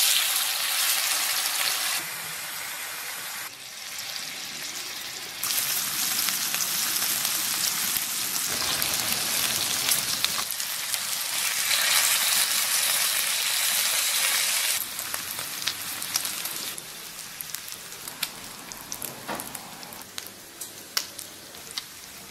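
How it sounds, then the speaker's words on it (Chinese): Marinated pork belly searing on an oiled, hot iron plate, making a continuous crackling sizzle that swells and eases in stretches across a long run, with no voices. "铁板烧热，把五花肉放进去让煎着"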